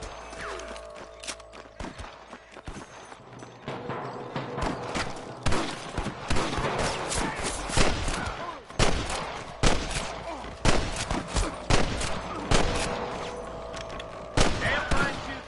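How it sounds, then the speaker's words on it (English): Shootout gunfire in the Red Dead Redemption game, with horse hooves clip-clopping, sharp repeated shots and bursts crackling irregularly through the scene at moderate loudness. "Damn fine shooting, boys."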